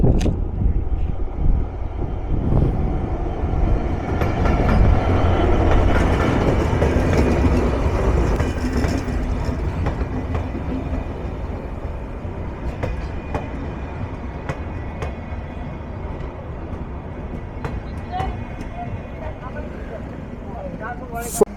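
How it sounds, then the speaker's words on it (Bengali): Nilsagar Intercity Express, hauled by an American-built locomotive with Chinese coaches, rolls into platform one at Ibrahimabad railway junction, a loud steady rumble with clickety-clack of wheels that slowly fades, with voices talking over it. "এইমাত্র ইব্রাহিমাবাদ রেলওয়ে জাংশনের এক নম্বর প্ল্যাটফর্ম ধরে প্রবেশ করছে train number seven six five intercity Nilsagar express"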